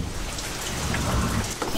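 Steady rain falling and pattering on surfaces, a dense continuous hiss with a low rumble underneath, moderately loud and without voices.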